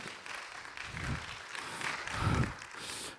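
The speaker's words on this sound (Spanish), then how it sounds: "Dale fuerte ese aplauso." A church congregation applauds at a service, a faint, steady wash of many hands clapping from a distance with no single clap standing out.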